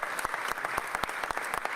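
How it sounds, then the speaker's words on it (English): Brisk audience applause at a Philadelphia public safety announcement, close, sharp individual claps forming a quick, uneven rhythm for a couple of seconds. "Give Anton a round of applause."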